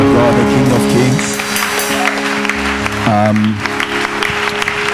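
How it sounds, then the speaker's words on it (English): Congregation at a church breakout conference claps in loud, continuous applause, with sustained musical tones and a voice rising over the crowd's clapping. "put your hands together"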